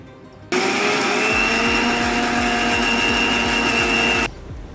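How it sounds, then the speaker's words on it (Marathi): A mixer grinder grinding soaked mung lentils whirs loudly at a steady high-pitched whine for about four seconds, then cuts off abruptly, with a low rhythmic thumping underneath. "आता आपण मिक्सरमधून वाटून घेऊ"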